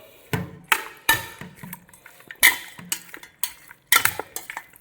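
Chicken pieces mixed by hand with salt and turmeric in a bowl, heard as a series of sharp clinks and knocks of a utensil against the dish in an irregular rhythm, close and fairly loud.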